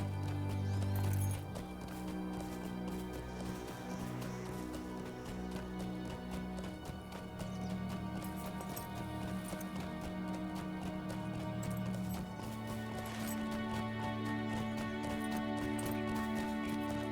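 Horse hooves clip-clop in a steady rhythmic gait in LOTRO, the Lord of the Rings Online game, heard over a continuous bed of background music with no talking.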